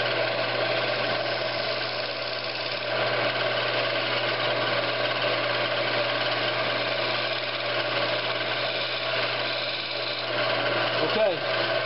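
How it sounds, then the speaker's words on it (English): A wood lathe cutting a groove in a vase turned from scraps: a steady mechanical whir with a constant hum runs throughout, with a brief scraping sweep near the end. "Gonna cut me a little groove right here for my saw to ride in."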